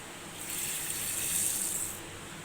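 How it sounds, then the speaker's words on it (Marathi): Running water pours over masoor lentils being washed, a faint steady hissy gush that swells for about a second and a half and then eases off, with no talking. "ही डाळ आपल्याला अतिशय व्यवस्थित धुवून घ्यायची आहे"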